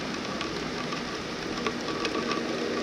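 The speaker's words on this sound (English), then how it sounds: "It's raining out" Steady rain falls outside a parked vehicle at home, a dense and even hiss of drops hitting surfaces nearby, with a few slightly louder individual spatters and no voices.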